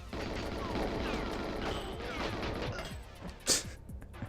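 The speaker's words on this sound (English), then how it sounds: "I just rinsed that guy on the left with a few bullets." Rapid bursts of gunfire from GoldenEye 007 on the Nintendo 64 rattle on almost continuously, with one sharper, louder crack near the end, all at a moderate, fairly distant level.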